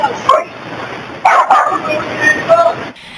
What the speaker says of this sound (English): They're heard again over the sound of barking dogs.